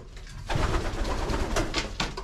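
Pigeons coo softly near a nest holding two eggs, with low repeated coos mixed with rustling and scattered brighter flutters and scuffs across the short stretch.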